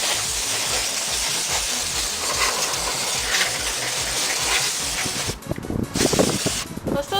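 Canned compressed air sprays in a long steady hiss while cleaning dust from a desktop computer, then breaks into short choppy bursts near the end.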